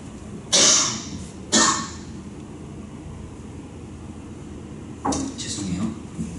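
A person with a chronic dry cough coughs during a worship service: two sharp, close coughs about a second apart, then a quieter stretch and a third cough near the end.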